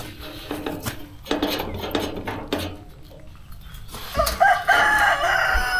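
Chickens on a farm cluck and shuffle amid light clattering, then a rooster lets out one loud, clear cock-a-doodle-doo near the end.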